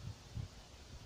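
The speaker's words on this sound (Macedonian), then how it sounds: "Има доста ветер." Wind blowing outdoors near water, heard as low, rumbling gusts buffeting the microphone in three soft surges over a steady breezy hiss.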